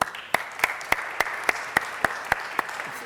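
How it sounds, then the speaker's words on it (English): Sparse, evenly spaced claps ring out in a city council chamber, about nine sharp individual hand claps at a steady rhythm rather than a full crowd ovation, with faint room noise between them. "please give as rousing a round of applause as we can for Dr. Paul"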